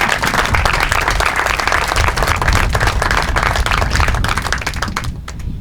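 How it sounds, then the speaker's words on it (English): A crowd gives a sustained round of applause for soldiers at an outdoor military change-of-command ceremony, dense and close, fading out at the end. "Please offer a round of applause for all these soldiers today"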